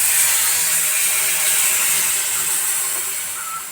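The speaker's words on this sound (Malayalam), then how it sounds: "ഇതിലേക്ക് നമുക്ക് വെള്ളം ഒഴിക്കാം." Water hits a hot pan of egg curry with meat masala, setting off a loud, steady hissing sizzle that holds for the whole stretch and eases off slightly toward the end, with no voices.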